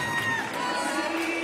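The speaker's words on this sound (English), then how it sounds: "Terrific crowd here on hand, saluting all these young Little Leaguers." Crowd cheering at a Little League World Series consolation game, a continuous mass of voices and shouts at steady loudness, with some higher children's cries within it.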